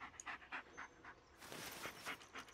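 A dog in the Blair Witch game pants softly in quick rhythmic breaths, then adds a short burst of sniffing. The sound is faint and close, with no talking over it.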